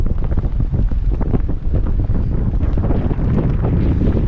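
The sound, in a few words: strong wind at the Strait of Malacca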